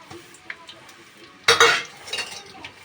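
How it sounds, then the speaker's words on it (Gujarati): Sliced onions being stirred in hot oil in a pan for a fish curry: a loud scrape and clatter of a spoon in the pan midway, followed by softer stirring and faint background noise. "અને એને આપણે હલાવીશું ઘડીક જ્યાં સુધી સડતી જાય ત્યાં સુધી"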